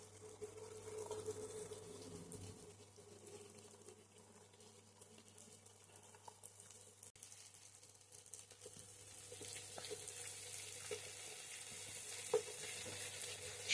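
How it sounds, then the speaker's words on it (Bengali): Mixed vegetables, including beetroot and peas, fry in a pan over low heat for Maggi noodles, a faint, continuous sizzle with occasional soft stirring scrapes and clicks, heard alone. "সবজিগুলোকে আমি ভালোভাবে ভেজে নেব।"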